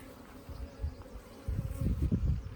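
Honeybees buzz in an open Top bar hive being checked for a queen cell, giving a steady close hum that thickens and grows louder in the second half, with no talk.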